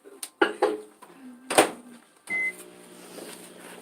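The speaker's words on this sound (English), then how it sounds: "so I'm gonna stick this in the microwave" A kitchen microwave oven runs to melt butter, starting with door handling and clicks, then a steady hum with a short beep-like tone and faint background movement.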